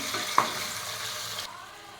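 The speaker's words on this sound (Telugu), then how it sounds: "ఇదంతా మంచిగా కలుపుకున్నాం కదండి ఒక నిమిషం పాటు ఫ్రై చేసుకున్నాం కదా" Chicken pieces fry and get stirred in a pressure cooker for biryani, a close steady sizzle with a scraping stir near the start, no talking.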